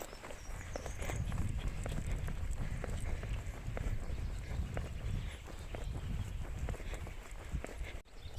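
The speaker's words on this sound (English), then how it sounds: "Cute horses." Horses walking along a trail in a national park, their hooves clip-clopping in a steady, uneven rhythm at close range against a wind-buffeted outdoor background.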